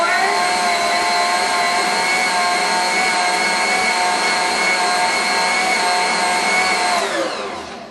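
An electric mixer kneads dough for an elk Alfredo stromboli, its motor a loud, steady, high whirring drone for about eight seconds, close by, tapering off at the end with no talking.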